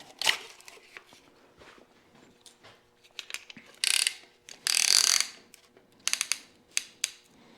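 A ratchet tightens a piston ring compressor on a Farmall Super M engine, heard as close, rapid metallic clicking that comes in uneven bursts, with a few longer runs of clicks mixed with scattered single ticks.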